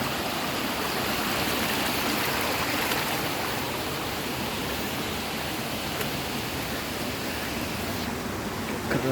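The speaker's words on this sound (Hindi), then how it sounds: "देख लीजिएगा ये कितना अच्छा लगता है, पानी का बहते हुए।" A waterfall and flowing river at Baregaon pour out a dense, constant rushing hiss, loud and unbroken throughout with no voices over it.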